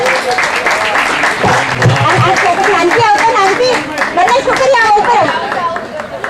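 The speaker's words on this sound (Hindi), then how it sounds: "सब गिव देम बिग हैंड खूब तालियों से बजाओ बच्चे लोग को" Loud, steady applause from an audience for children who danced at a Jain varshi tap parna drama event, dense clapping sustained throughout with crowd chatter and voices mixed in.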